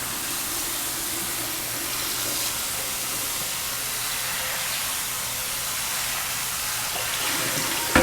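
Tap water pours steadily into a cast iron pot during a first rinse, a constant close hiss and splash with no pauses.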